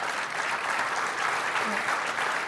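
An audience applauds steadily throughout a panel discussion on drug insurance, a dense, continuous wash of clapping from a full room with no breaks.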